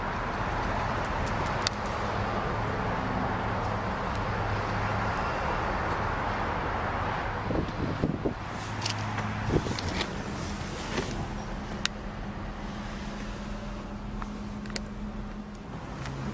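A 2003 Dodge Viper SRT-10 in Viper Red idles steadily at close range, its low rumble holding an even level, with a few sharp clicks and knocks partway through.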